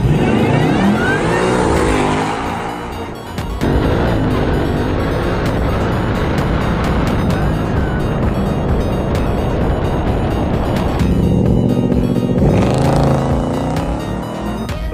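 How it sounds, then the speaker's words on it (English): A 2024 Ford Mustang GT fitted with a Roush supercharger kit launches and accelerates hard down a drag strip, its engine roaring loud and sustained through gear changes with a brief dip and supercharger whine, no voices. "we're going to be testing out the new 24 Mustang Supercharger kit"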